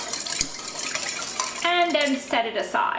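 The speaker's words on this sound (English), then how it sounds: "I'm going to take 1 egg and mix it with half a cup of milk. Now I'm just going to whisk that up together" An egg is whisked with milk in a bowl, with quick metallic clinks and taps of a utensil against the dish, close and fairly loud, before a voice briefly speaks.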